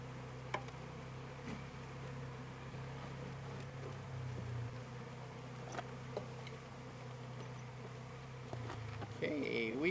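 Honeybees buzz in a steady, close drone at an open hive during an autumn inspection, filling the whole stretch, with a few faint clicks and knocks scattered through it.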